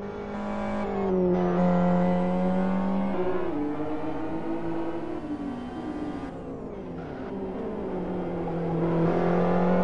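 A GT1 race car pulls away after a stop-go penalty, its engine climbing through rising and falling gear changes, loud and near with steady roar.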